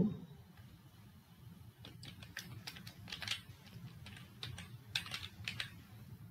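Keys tapped on a computer keyboard while HTML code is entered, a quiet, irregular patter of close clicks in short bursts against a low room hum.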